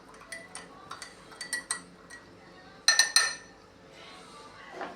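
Spoon stirring milk tea in a glass, producing light clinks and taps against the sides in scattered bursts, with a cluster of brighter ringing hits midway and a quiet pause between.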